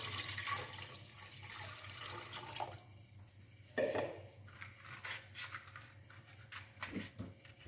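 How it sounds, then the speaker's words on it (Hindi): Two glasses of water poured into a cooking pot to make jaggery syrup: close splashing and running water with light metallic clinks from the pot, and a short louder splash midway, without talk. "2 गिलास पानी ऐड कर देते हैं गुड़ की चाश बनाने के लिए"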